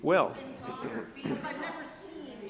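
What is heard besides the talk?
No everyday noises stand out.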